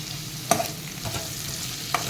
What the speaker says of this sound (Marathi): आता आपण त्याच्यामध्ये शिमला मिरची घालूया आणि ती पण दोन ते तीन मिनटं छान परतून घेऊया